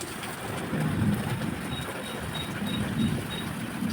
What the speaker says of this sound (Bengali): আজ সকাল ঘুম থেকে উঠে দেখি বৃষ্টি হচ্ছে।